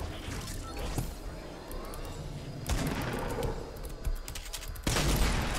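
Heavy sniper rifle shots in Fortnite Battle Royale ring out as sharp, loud blasts, a few seconds apart, over a continuous wash of game noise.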